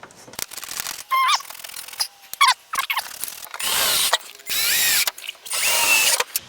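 A power drill drives screws into light mounting brackets outdoors during a permanent outdoor light installation: several loud, close bursts of whining motor, short at first, then longer sustained runs separated by pauses with small handling knocks.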